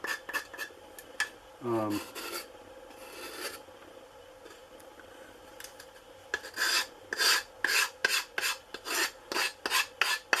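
Wood is sanded by hand with 80 grit sandpaper in a workshop, a series of short scratchy rasping strokes, sparse at first and then a faster rhythmic run of back-and-forth rubs, close and moderately quiet.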